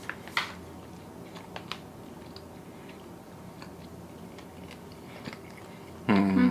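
Slow, quiet chewing of tough, peppery Simm's beef jerky, with faint intermittent bites and crunchy clicks spread over several seconds, ending in a louder rustle.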